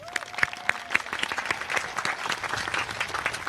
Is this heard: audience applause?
yes